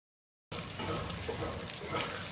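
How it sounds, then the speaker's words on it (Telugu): Capsicum with turmeric and ginger-garlic paste fries in a pan as a faint, steady sizzle that starts after a brief silence and carries on evenly without talk. "రెండు వేపులా అవి క్యాప్సికమ్ చక్కగా వేగాలి చూసారా ఇట్లా వేగాలి"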